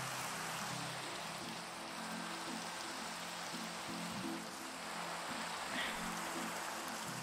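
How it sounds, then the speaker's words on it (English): Steady rain in a Minecraft server world, a constant soft hiss of falling drops with no breaks, heard alone without voices. "Oh, perfect. It's raining."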